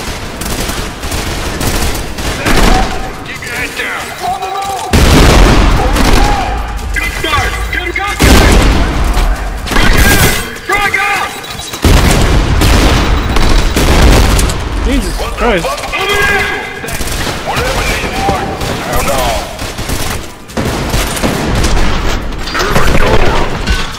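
Grenade launcher blasts and rapid gunfire in the shooter game Trepang2, loud repeated booms and bursts of shots clustered through the stretch, with a player talking over the chaotic combat.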